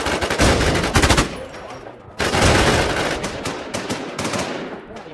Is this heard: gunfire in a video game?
yes